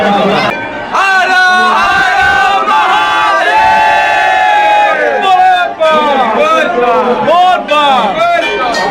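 A dense crowd packs the entry gate of Kapleshwar temple in Rahika, Madhubani, with many voices loudly chanting and shouting together in a continuous close din.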